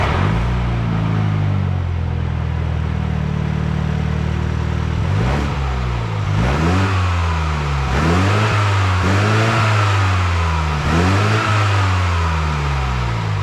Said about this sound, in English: let me go ahead and show you what the Mini Cooper sounds like right now